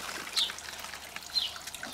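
Clean water flows out of a backyard pool filter as it is flushed. A soft, steady trickle and pour is heard, with faint splashy peaks.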